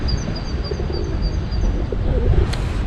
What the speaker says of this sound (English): suddenly a flock of pigeons has just swooped down